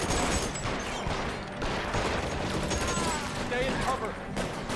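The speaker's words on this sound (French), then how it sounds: "Je crois qu'il me tire dessus lui." Scattered gunfire crackles through a shootout in L.A. Noire, a steady dense layer of shots and game noise with a player's voice talking over it.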